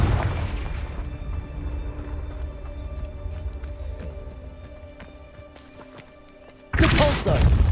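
A Confringo fire spell blast in the Hogwarts Legacy video game: a loud, rumbling burst that slowly fades over several seconds, followed by a sharp fresh blast near the end.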